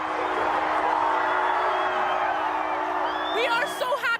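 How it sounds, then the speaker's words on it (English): A large crowd in Edmonton roars and whoops as a game ends, a loud sustained din with a voice speaking over it and sharper shouts near the end. "As the last seconds of the game wound down, the crowd held nothing back."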